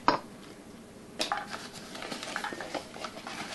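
Harvest bread ingredients being mixed in a bowl, with a soft clink at the start, then steady scraping and stirring taps for a few seconds, fairly quiet and close.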